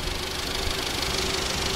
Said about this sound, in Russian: Двигатель работает нормально, никаких посторонних звуков он не издает, ни на холодную, ни как бы на горячую.